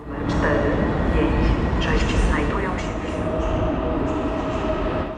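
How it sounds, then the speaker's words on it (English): A Polish-built Pesa Dart electric multiple unit train, PKP Intercity ED161, rumbles into a station with clattering wheels and thin metallic squeals, while people talk in the background. "our train is due to arrive shortly"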